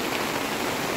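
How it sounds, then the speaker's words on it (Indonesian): Rain falls steadily outside a tent at a campsite near the rafting route at Situ Cileunca, Bandung, a dense, even hiss with no voices. "Karena cuaca di luar hujan."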